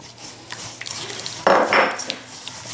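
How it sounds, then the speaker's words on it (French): Gingerbread dough being mixed by hand in a bowl gives off scattered light clinks and scrapes, with a louder burst of rubbing and knocking midway, close up and with no talk. "Je mélange à la main, sinon vous pouvez mélanger directement dans le robot"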